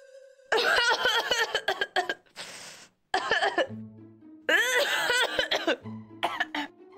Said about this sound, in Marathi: तेच का आलाय खोकला?